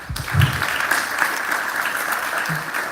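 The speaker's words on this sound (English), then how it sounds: "Let's give them a round of applause" Loud, steady applause from a public lecture and book launch audience fills the whole stretch as a dense, continuous wash of clapping.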